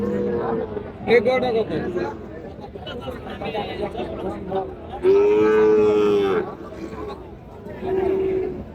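Cattle at a busy cattle market where a bull is being bargained over low a few times, with long, loud moos rising over the steady chatter of people talking nearby.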